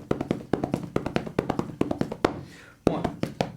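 Heavy sticks tap out a dry, dead-sounding drum roll on a hard surface, rapid strokes with no bounce, briefly pausing before resuming.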